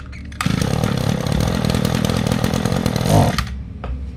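An Echo brush cutter from the Z2 line, a used Japanese machine, runs after a pull start, its small two-stroke engine snarling loudly and steadily for about three seconds before cutting back to a quieter idle.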